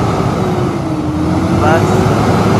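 A heavy construction vehicle's engine labors with a low, continuous rumble while tilted and taking strain to lift its load, someone talking over the steady drone.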